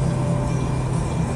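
Thrust reversers roar on a Dash 8 Q400 turboprop just after landing in X-Plane 11, with the throttles not fully back, giving a steady, loud, dense engine drone with a low hum and no voices over it.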